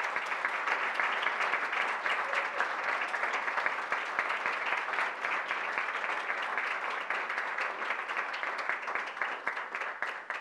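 A long, even roar of clapping from the audience at a book presentation on program evaluation, dense and steady for about ten seconds, tapering slightly at the end.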